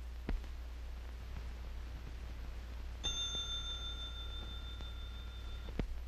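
In a reaction-time test, one bell rings steadily for roughly two and a half seconds, bright and clear against low hiss, framed by faint ticking clicks.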